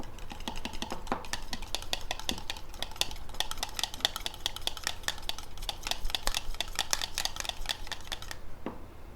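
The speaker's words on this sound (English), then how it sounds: "I'm just gonna beat it a little bit" Cornbread stuffing mixture being beaten in a bowl, a rapid run of close, sharp clicks and scrapes of a utensil against the bowl that continues steadily before stopping abruptly near the end.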